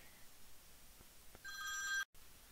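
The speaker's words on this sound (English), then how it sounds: "that's an important phone call" A telephone rings briefly and faintly: a high, steady electronic trill of about half a second that cuts off abruptly after a few soft clicks, with no talk.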